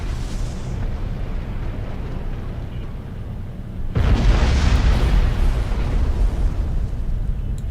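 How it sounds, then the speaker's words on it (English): Ship explosion in a Star Trek video game: a subdued rumble gives way to a sudden loud, deep boom that rolls on as a sustained roaring blast. "That was quite an explosion."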